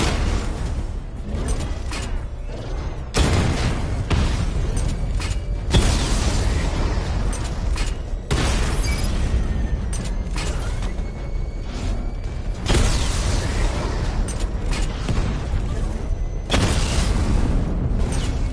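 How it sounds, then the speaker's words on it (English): Repeated heavy booms from a missile barrage in Batman: Arkham Knight, loud and continuous, with big blasts recurring every few seconds over a dense mechanical rumble, no voices. "Charge up missile barrage to level 2 and destroy 4 active targets to complete diagnostic test."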